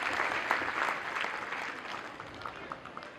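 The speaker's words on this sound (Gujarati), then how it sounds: "એમના માટે ફરીથી જોરદાર તાળીઓથી વધાવી લઈએ." Audience applause at a stage event, a dense wash of many hands clapping steadily throughout, fairly loud and fading slightly toward the end.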